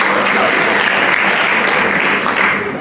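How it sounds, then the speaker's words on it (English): An audience claps at a pride rally, a dense, loud burst of applause that holds steady for a few seconds and begins to thin out at the end. "the audience can break out in loud, positive clapping"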